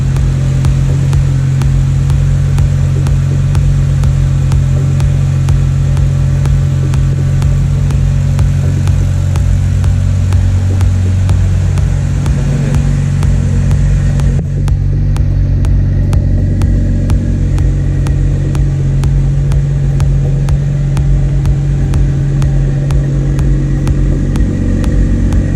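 A Ford EL Fairmont Ghia with a Barra engine, 3.5-inch exhaust and two mufflers runs loud and close, holding a deep idle drone that shifts pitch partway through as the revs change.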